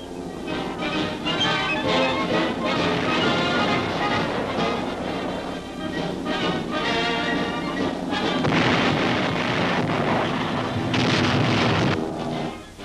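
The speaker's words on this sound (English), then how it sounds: "Once more, the bombers pound the Asiatic coast and Jap bases elsewhere" Bombers pound a coastal target in the Pacific in 1945. The soundtrack is a dense, continuous roar of explosions and rumbling blasts with no breaks, loud and gritty like an old newsreel.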